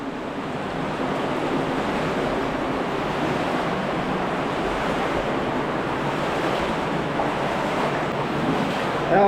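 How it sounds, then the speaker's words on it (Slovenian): Steady, dense splashing and rushing of water as someone wades through an underground river in a thermal cave, a continuous loud wash with no breaks. "Brodimo po Jamski reki."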